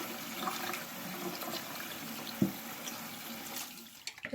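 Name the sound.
tap water running over butter being rinsed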